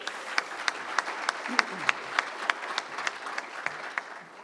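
An audience at a Rotary charity event claps in scattered, distinct hand claps that keep a fairly even rhythm, moderately loud and tapering off at the end.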